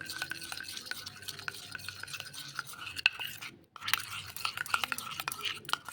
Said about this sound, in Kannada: ಇದಕ್ಕೆ ಮೊಸರನ್ನ ಆ್ಯಡ್ ಮಾಡಿಕೊಂಡು ಚೆನ್ನಾಗಿ ಮಿಕ್ಸ್ ಮಾಡ್ಕೊಳ್ಳಿ.